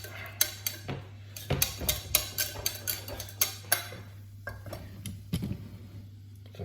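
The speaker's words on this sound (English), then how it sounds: "you can see it's boiling up, so I'm going to have to give that a real good stir straight away" A utensil stirs boiling gougère dough in a pan, producing a run of sharp metallic clicks and scrapes at an irregular, fairly quick rhythm over a steady low hum, close and clear with no talking.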